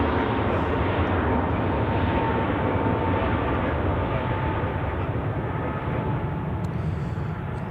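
Airbus A321neo jet at Zurich Airport, a steady broad engine rumble and rush that stays loud and constant throughout, heard alone at a moderate distance.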